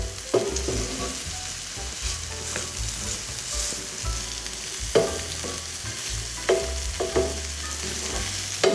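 Mushrooms and leeks frying in butter and oil for a fennel risotto, a continuous close sizzle broken by repeated clacks of a utensil stirring and scraping the pan, with no talking.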